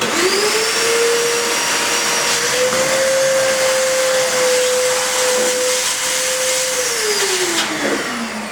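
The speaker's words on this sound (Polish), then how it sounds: "czyli w tym momencie mamy odkurzacz wodny" A Welmax Turbo Power Cleaner wet vacuum runs steadily and loudly up close, its motor pitch rising at start, holding, then winding down at the end.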